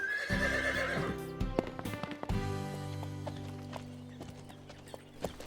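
Wild horses whinny loudly over rapid, irregular clip-clopping hooves, with a long neigh at the start and further hoofbeats and calls following, set against light background music.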